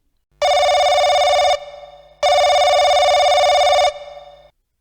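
A telephone rings twice with loud, near electronic trills, each ring lasting over a second and separated by a short pause, with no voices.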